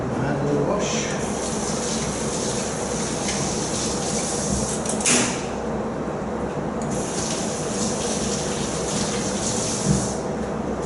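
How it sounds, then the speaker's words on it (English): A hand is rinsed under a running kitchen tap, with a steady broad wash of water lasting throughout and a couple of brief clanks partway through. "give my hand a little wash"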